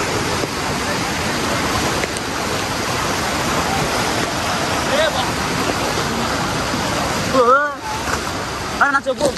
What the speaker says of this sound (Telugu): నెక్స్ట్ వచ్చే వాటర్ ఫ్లో చూడండి ఎంత ఉందో